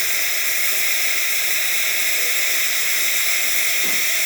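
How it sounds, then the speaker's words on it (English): A Breville espresso machine's steam wand hisses out steam in a steady, loud, continuous rushing hiss that holds from start to finish without speech. "Once it does, the steamer will start producing steam, just like so."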